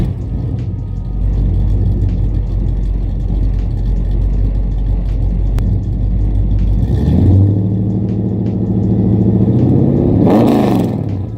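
A Ford 302 Windsor V8 in a muscle car rumbles deeply at idle, then revs up twice in roaring bursts, loud and close.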